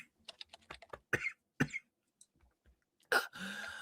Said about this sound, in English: Oh god, I hate coughing.